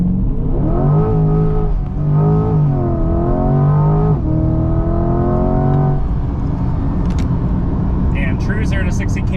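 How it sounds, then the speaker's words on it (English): A C8 Corvette's engine revs against the brake in rising and falling harmonic surges, then roars through a hard launch with wheel spin, loud and close from inside the car, with a voice briefly heard near the end. "let's do a little bit of a brake rev and I'll show you what I'm talking about with losing traction"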